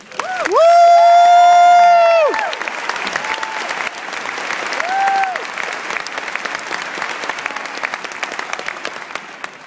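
An audience at a University of Georgia December 2011 commencement applauds to welcome a student speaker, steady loud clapping from a large crowd, with a sustained whistle or tone near the start and the ovation gradually thinning out.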